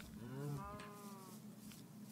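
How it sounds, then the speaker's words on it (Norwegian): Cows mooing in a Minecraft modpack world, one clear drawn-out moo with a falling tone over a low steady game ambience, fairly faint and with no talk. "Masse kuer."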